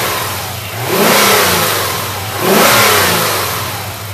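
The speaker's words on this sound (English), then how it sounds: "So the sound of a healthy 928." A healthy Porsche 928 engine is blipped twice, each rev swelling loudly and smoothly before dropping back to a steady idle, close by with no voices.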